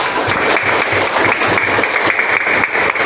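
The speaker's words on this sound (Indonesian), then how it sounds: "Tepuk tangan dulu untuk kita semua" A room of workshop participants bursts into loud, dense applause that holds steady throughout, close and continuous with no talk over it.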